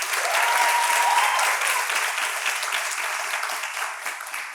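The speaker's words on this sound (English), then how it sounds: "I think we should give those men a round of applause." A talk-show audience gives a steady round of applause, a dense wash of many hands clapping at an even level that tapers slightly toward the end.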